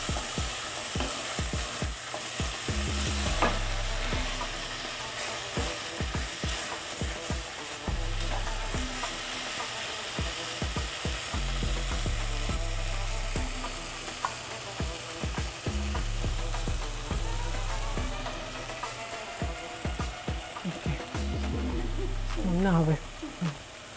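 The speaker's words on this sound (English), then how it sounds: "And we are going to let it cook till the tomatoes become really good" Tomatoes frying in oil for a red bean curry, a continuous loud sizzle with repeated scraping and stirring strokes against the pan, with no words spoken.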